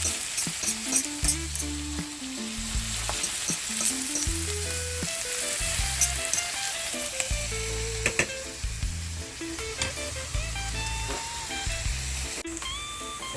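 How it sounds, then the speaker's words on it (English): Onion and garlic fry in hot oil with a bright, steady sizzle, while a melodic musical backing plays prominently throughout over the cooking sound. "let the onion and the garlic infuse in the oil before I add my salt mackerel and my ackee."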